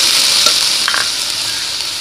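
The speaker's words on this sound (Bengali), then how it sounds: "আমি আলুটা 1 মিনিট ভেজে নিয়েছি পেঁয়াজের সাথে। এবার আমি এখানে জিরা আর আদা বাটা দিয়ে দিব।" Cumin and ginger paste going into potatoes frying with onion in a pan, a steady bright sizzle with a couple of soft stirring knocks, close with no voices.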